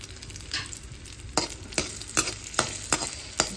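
Makhana roasting in ghee in a pan, stirred in repeated scraping strokes roughly every half second over a soft, steady sizzle, close and clear.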